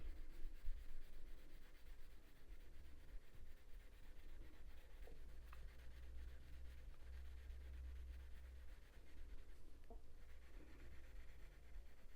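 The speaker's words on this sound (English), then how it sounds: "Luminance pencils work really well on drafting film actually" Quiet, continuous scratchy rubbing of a coloured pencil on drafting film, soft strokes going on steadily with faint background hum.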